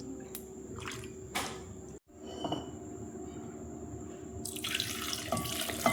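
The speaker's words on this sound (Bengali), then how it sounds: "এবার আমি আটাটা দেখো জল দিয়ে ধুয়ে নেব।" Tap water runs steadily while kneaded wheat dough is washed in a sink, a continuous splashing stream with occasional squishes and a brief break, growing louder and brighter toward the end.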